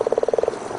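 A frog croaks in a quick run of about nine evenly spaced pulses, close and clear, then stops, leaving a faint hiss.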